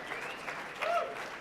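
Audience applause for a contestant at a trivia game event, a steady patter of clapping across the clip that swells briefly near the end, with faint voices underneath.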